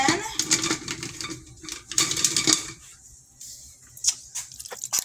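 Stirring cream of chicken potato soup in a pot brings wet squishing scrapes and spoon clinks against the metal in short, uneven bursts, close up, with quieter pauses between strokes.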